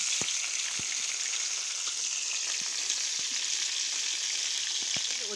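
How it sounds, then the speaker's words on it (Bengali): Fish frying in a pan, a steady, even hiss of hot oil with scattered small pops and crackles throughout, close and continuous with no talking. "এখানে মাছ ভাজছি"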